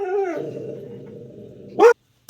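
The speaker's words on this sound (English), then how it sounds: "hold on guys, and the dogs are barking?" A dog gives a drawn-out whining howl, then a single sharp bark close by before everything goes quiet.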